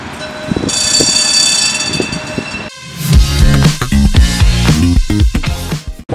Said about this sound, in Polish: tak wygląda tramwaj.